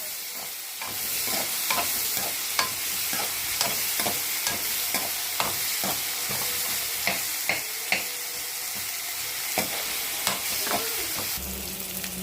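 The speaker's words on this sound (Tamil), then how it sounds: "நம்ம வெங்காயம் தக்காளி எல்லாமே நல்லா வதங்கிடுச்சு" Onion and tomato frying in a pan for a drumstick chops dish, a steady close sizzle punctuated by regular spoon scrapes and stirring knocks, with no talking.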